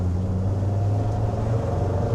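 A Td5 diesel engine with a GTB450 turbo pulls at full throttle, giving a steady, close, deep droning rumble with no gaps.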